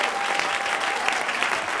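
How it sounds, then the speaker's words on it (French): Steady, dense applause from a church congregation during a pastor's sermon, continuous and fairly loud throughout with no break. "Donnez une bonne main d'acclamation à Dieu"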